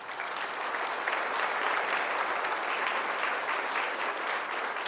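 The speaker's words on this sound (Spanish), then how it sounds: "Le damos un fuerte aplauso" A dense, steady round of applause fills the whole stretch at a religious celebration for a girl, loud and even with no talk over it.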